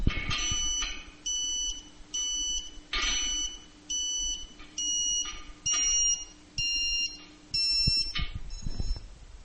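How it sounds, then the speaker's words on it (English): Satellite antenna pointing beeper during a Tooway SurfBeam2 installation, giving a steady series of about ten loud, evenly spaced electronic beep bursts with low background rumble. "Until you hear the beeper level drop."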